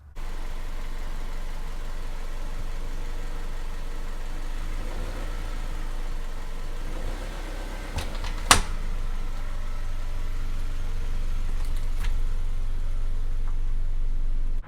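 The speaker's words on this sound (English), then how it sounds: "now let's run over them with a car like they do in the commercials" A car engine idles steadily throughout, with a brief sharp crunch or click partway through as the car rolls over tactical flashlights, and another faint knock later.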